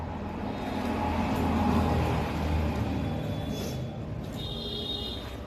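Steady road traffic rumbles outside a home kitchen, cars and other vehicles passing at a moderate distance in a continuous low wash with a faint high whine near the end, no voices over it.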